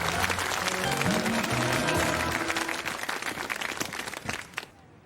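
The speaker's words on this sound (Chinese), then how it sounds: "接下来就让我们用最热烈的掌声，" Warm audience applause greets a newly appointed bureau chief at a ceremony, a dense, steady wash of clapping that carries on for several seconds before thinning out near the end.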